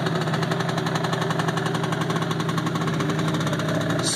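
A Scoot Coupe 50cc custom reverse trike idles up close, its small engine putting out a steady, rapid pulsing putter with a faint knocking rhythm throughout.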